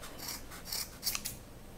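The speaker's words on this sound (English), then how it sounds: "put my scissors into those loops and sort of pull up" Scissors snipping through the yarn loops of a handmade pom-pom, a few quiet close-up cuts with soft rubbing of fibers between snips, alone with no talk.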